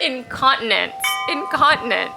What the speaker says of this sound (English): sorry about the wind chimes